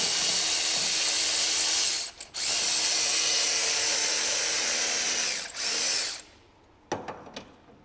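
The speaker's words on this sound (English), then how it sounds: "just take the big nut off the bottom, the lock one" A ratchet undoes the big lock nut on a Porsche 981/991 gearbox mount, giving a fast, steady clicking run that pauses briefly twice before stopping, followed by a few sharp knocks.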